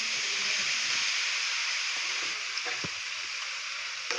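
Sliced pappadam pieces frying in hot oil, a steady bright sizzle and hiss with a few soft pops, close and fairly quiet.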